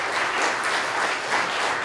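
A church congregation claps for a children's anniversary celebration, producing a full, continuous patter of many hands that swells slightly in waves, fairly loud and with no voices on top.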